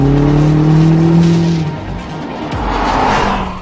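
A BMW M8 pulls away hard with a loud, rising engine roar that fades as it moves off, followed by faint tyre and road noise, no voices.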